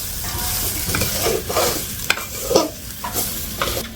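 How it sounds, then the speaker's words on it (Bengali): Rice and mung dal fry and sizzle in a pan, stirred briskly with a spoon, giving a continuous close hiss broken by repeated scraping strokes and small clinks against the metal. "আমি চালটা কষে নিচ্ছি"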